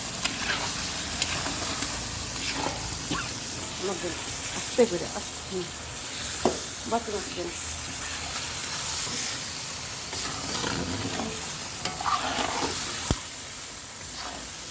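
Fish pieces and a fish head sauté in a pan with turmeric, chili and coriander powder, giving a continuous moderate sizzle with occasional stirring clinks while people talk over it.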